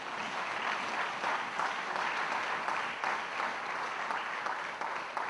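A church congregation breaks into sustained applause acclaiming God, a dense, even clatter of many hands filling the space for several seconds.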